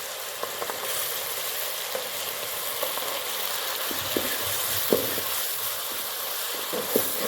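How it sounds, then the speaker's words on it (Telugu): Onion paste roasting in hot oil for a Guntur-style fish curry, giving a steady close sizzle with faint stirring scrapes and small pops throughout. "ఆనియన్ పేస్ట్ గోల్డెన్ బ్రౌన్ కలర్లో వచ్చే విధంగా రోస్ట్ చేసుకుంటున్నాను"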